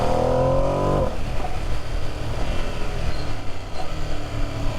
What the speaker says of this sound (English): the induction noise is quite loud.